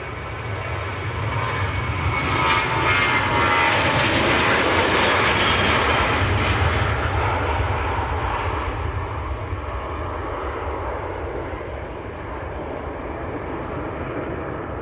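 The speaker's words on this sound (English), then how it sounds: "Jet2 737-800." A Jet2 Boeing 737-800 jet airliner at Manchester Airport gives a steady, loud broadband engine roar that swells to a peak and then slowly fades as it passes, with no voices present.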